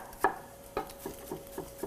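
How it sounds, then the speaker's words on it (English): Several sharp knife taps on a cutting board as apples are roughly diced, uneven in rhythm, close and fairly quiet, with a faint steady hum underneath. "I can just go right through and just do a rough little dice on those"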